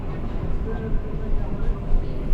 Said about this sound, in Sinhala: හරි අපේ ට්‍රේන් එක ආවා